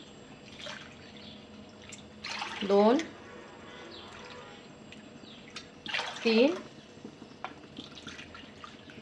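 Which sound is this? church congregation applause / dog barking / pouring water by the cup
pouring water by the cup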